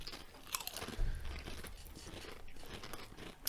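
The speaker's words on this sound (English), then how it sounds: "Just chewing in the mic." Crunchy food is chewed right against the microphone, with steady close-up crunching and biting throughout and no voices.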